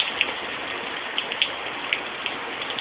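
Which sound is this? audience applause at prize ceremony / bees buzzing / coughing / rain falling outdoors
rain falling outdoors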